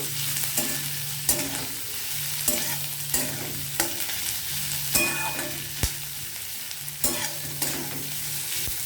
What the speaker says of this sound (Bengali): এইভাবে পেঁয়াজটাকে আমি কন্টিনিউ নেড়ে যাব।